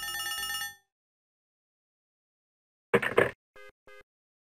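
A telephone rings in the Leisure Suit Larry computer game: an electronic ringtone plays, then a short burst of noise follows and two brief beeping rings sound clearly on their own.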